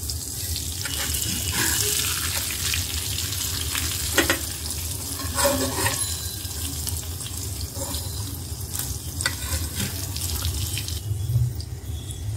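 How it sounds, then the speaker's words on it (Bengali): Spiny gourd pieces coated in spices fry in a pan and are turned over, a loud continuous sizzle close by, with occasional scraping and stirring sounds and no talking. "কাঁকরোলগুলি উল্টিয়ে দিচ্ছি, তাহলে বেশিক্ষণ রাখলে আবার পুড়ে যেতে পারে"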